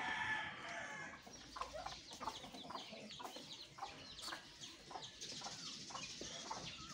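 Domestic ducks and other poultry after feeding, a mix of soft clucks, quacks and calls, with a crow-like cry at the start, heard at moderate distance among farmyard ambience.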